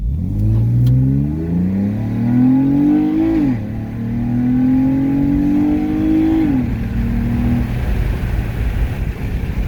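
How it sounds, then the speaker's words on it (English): A Jeep Cherokee SUV engine revs up through the gears from 0 to 60, the exhaust note climbing in pitch, dropping at each shift, then climbing again, loud and close. "That's a pretty nice exhaust note."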